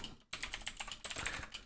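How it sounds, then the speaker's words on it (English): Fast typing on a computer keyboard, dense close clatter of key taps after a brief pause, quiet and with no voices. "As you can hear, I'm typing."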